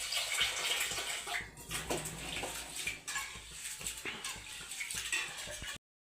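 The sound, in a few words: water poured into a pot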